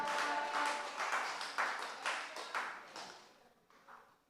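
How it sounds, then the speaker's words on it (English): Applause from an audience at a community gathering at Chantimelle R.C. School, honouring a man seated in the crowd; a burst of hand clapping pulses in a fairly steady rhythm at moderate level, then thins and fades near the end. "give the man a round of applause now"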